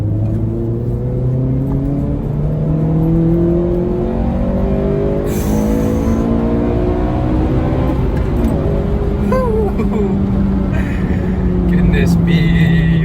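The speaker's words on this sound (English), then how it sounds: "That noise of just Vtec, that when that second cam engages" A Honda Civic Type R FN2 engine revs hard under acceleration, its pitch climbing steadily as VTEC engages, then dropping and climbing again through a gear change, loud and close from inside the car.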